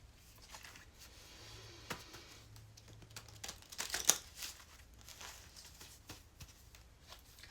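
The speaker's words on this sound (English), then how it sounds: "Let's shuffle the cards." Tarot cards being shuffled at close range, a quiet run of soft riffling and papery clicks with a brief louder burst partway through, over a low steady hum and no talking.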